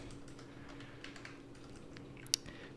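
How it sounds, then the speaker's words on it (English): Typing a command on a computer keyboard for Minecraft, a run of soft, quick key taps followed by one sharper keystroke near the end, close and quiet with no talking. "we'll type in the command /give @p Minecraft"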